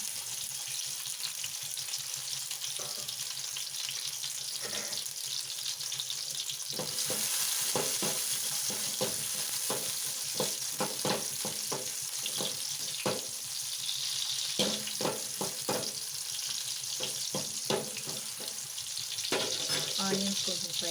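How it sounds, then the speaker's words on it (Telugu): Onions frying in a small amount of hot oil, a steady close hiss and sizzle with intermittent scraping stir strokes for a vegetable stir-fry. "ఆయిల్ కొంచెం హీట్ అవ్వగానే ఆనియన్స్ వేసుకోవాలి."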